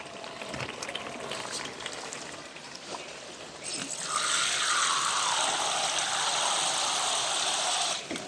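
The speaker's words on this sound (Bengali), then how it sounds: "এখন আমি এখানে আবার একটু ঝোল দিব।" Broth poured into a pot of traditional Bangladeshi pithuli curry with Malabar spinach seeds and small khalse fish, a steady close splash and trickle that swells midway and runs several seconds, with no talk.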